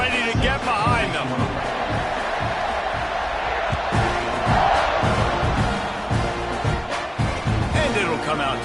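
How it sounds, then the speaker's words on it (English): Stadium crowd at a Texas at Texas A&M college football kickoff, a loud sustained roar of cheering that swells and dips throughout, with a few dull thumps and a commentator talking over it. "this crowd now ready to get behind them"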